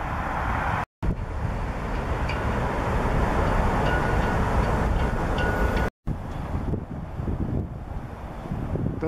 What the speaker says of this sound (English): CN Freight E251 is expected shortly